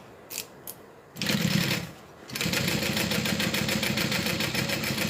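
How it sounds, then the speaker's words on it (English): A sewing machine top stitches a zip around a wallet in close, loud bursts of rapid needle chatter, a short run, a pause, then a longer steady run, with no talking. "All right, we're going to top stitch."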